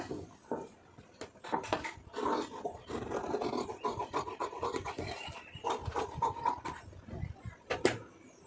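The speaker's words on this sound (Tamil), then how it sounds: "இப்போ நம்ம மார்க் பண்ண அளவுக்கு அது கரெக்டாக கட் பண்ணிக்கிறேங்க" Scissors cut through blouse lining cloth along marked lines for a 48-inch lining blouse, giving close, repeated rasping snips and rubbing fabric sounds in an uneven rhythm, with no talking.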